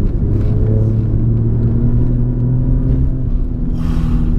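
An Alfa Romeo Giulia Quadrifoglio's engine drones loud and steady while driving, a deep sustained rumble with tonal harmonics that hold level and shift slightly in pitch late in the run, with no talking.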